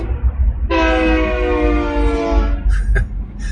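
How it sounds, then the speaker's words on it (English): A loud, sustained train horn blast lasting about two seconds rises over a steady low rumble, followed by a few short clanks. "There's a train, so there are train tracks"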